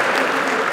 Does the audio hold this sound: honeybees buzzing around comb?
no